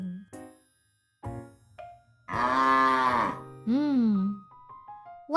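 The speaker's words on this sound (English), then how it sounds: "Oh, it's a cow." A cow gives a long, loud, close moo, then a second shorter moo, between chime-like musical notes and a brief spoken voice.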